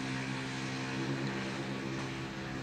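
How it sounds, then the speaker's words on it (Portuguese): A DJI drone hums steadily as it flies back on its own to its home point, a constant buzzing drone of rotors with no voices. "O drone aqui apoiou o sinal, tá voltando sozinho."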